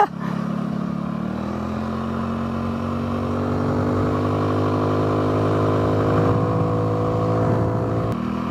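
A Suzuki S40 motorcycle rides along with its single engine humming steadily, the pitch rising and falling as the throttle is worked, heard continuously and fairly close.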